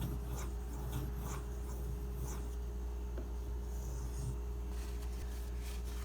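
A blade is sharpened dry on a Nubatama Bamboo 5000 grit stone, giving faint repeated scraping strokes over a low steady hum, close and quiet.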